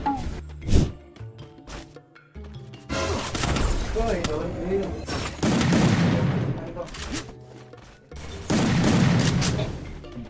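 Bursts of gunfire and booming shots in a video game come in loud, dense volleys with short pauses between, with voices talking over the action.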